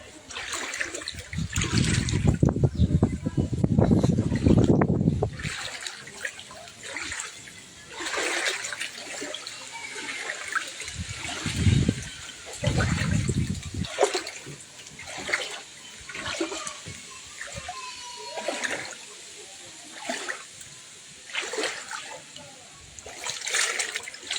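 Floodwater rushes and splashes during a 2024 flood in Bangladesh. A loud, broad surge of water is heard at first, then brief bursts follow and the flow continues more faintly.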